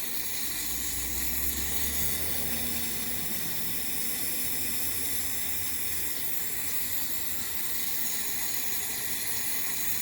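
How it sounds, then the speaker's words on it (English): A steady, continuous aerosol spray hisses for the full stretch, loud and close, with no pauses or talking, while cleaning a Toyota Sienna transmission breather cap. "A little more spray."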